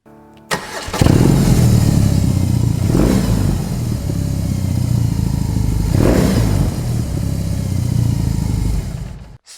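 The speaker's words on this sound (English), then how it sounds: "We also got the engine sound from the BMW footage," A BMW R18 cruiser motorcycle's big boxer engine fires up and runs close and loud, a deep, throbbing idle with two brief revs along the way.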